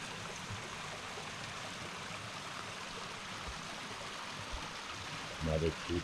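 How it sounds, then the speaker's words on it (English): A small woodland waterfall in Colorado rushes steadily as a broad, even wash of water noise, with a brief low voice murmuring near the end. "Another little waterfall."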